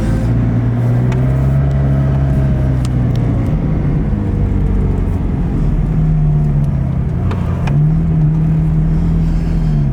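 A car cruising on a late-night drive at 2 a.m., a steady loud engine hum and road rumble throughout with gentle rises in pitch as it accelerates, no talking.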